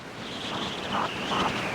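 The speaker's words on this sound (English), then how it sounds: "it's very windy today" Wind gusts steadily outdoors beside beehives, a continuous rushing rumble buffeting the microphone with no talk.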